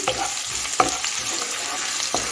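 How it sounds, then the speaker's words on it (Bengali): Garlic and chopped chilli sizzle in a hot pan, with a steady crackle and occasional sharp stirring scrapes. The sound is close and continuous, with no talking. "লঙ্কা কুচি দিয়ে দিচ্ছি দিয়ে একটু ভেজে নিচ্ছি যাতে রসুনের কাঁচা গন্ধটা কেটে যায়"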